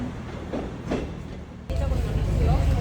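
On the Eryri (Snowdonia) circular route, a train's low rumble starts under speech and swells abruptly louder partway through, then rolls on steadily close by.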